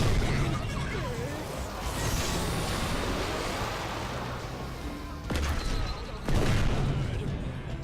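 Missile launcher traps fire in the video game Orcs Must Die 2, making a dense, continuous barrage of booming blasts and crashes, with a few louder bursts near the end and a voice talking over them.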